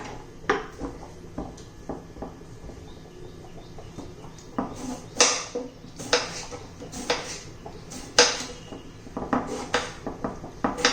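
Raw green tomatoes being cut into large pieces, a string of sharp knife knocks on a board at irregular intervals, close and fairly clear, with faint background clatter.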